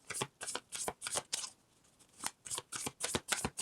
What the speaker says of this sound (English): that's just me not knowing how to shuffle